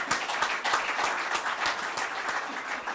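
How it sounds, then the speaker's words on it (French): Steady audience applause at an AUSIM Ftour event honouring a group of young people, many hands clapping together in a dense, even wash that holds at the same strength throughout. "je pense qu'on peut les applaudir"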